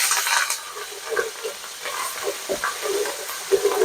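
Green chilies with garlic and ginger frying in a home-kitchen pan for peas pulao, a steady bright sizzle broken by scraping stirs of a spoon, close and fairly loud, with no talking.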